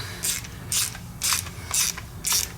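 Ratchet wrench tightening a Yamaha YZ motorcycle fork during fork seal work, five brisk clicking bursts in a steady rhythm, close and clear with no talk.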